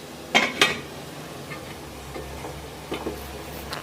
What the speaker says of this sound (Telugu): ఇప్పుడు మూత వేసేసుకుంటున్నాం